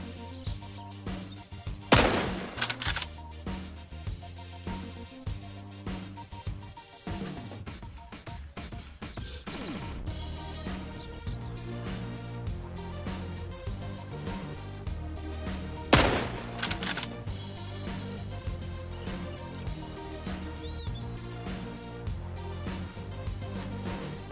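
Gunfire in the survival game Mist Survival during a raid on a large bandit camp: two loud bursts of rapid shots stand out over a busy backdrop of game music and ambience, with quieter scattered shots in between.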